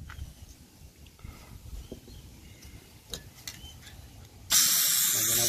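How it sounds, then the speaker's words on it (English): Gasket stripper sprayed from an aerosol onto a powder-coated part: a loud, steady, close hiss bursts in near the end after a stretch of quiet background, holding to the finish. "As soon as I start to spray it on, here we go, look at that, starts to bubble up immediately."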